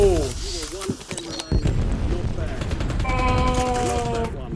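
Rapid bursts of gunfire in Call of Duty Warzone ring out over dense game noise with a voice breaking in briefly at the start, the shots crowding together into a steady loud barrage.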